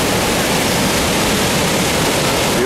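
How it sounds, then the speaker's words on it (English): Waterfall running full of water on a sunny day, a loud, dense, unbroken roar of rushing and crashing water close by, with no voices. "It's full of water in the waterfalls."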